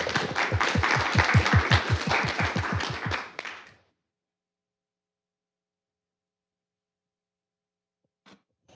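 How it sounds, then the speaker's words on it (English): Council meeting audience in Fond du Lac gives a round of applause, a dense burst of many hands clapping for about three seconds before cutting off into silence, with a couple of faint knocks near the end. "If we can give her another round of applause."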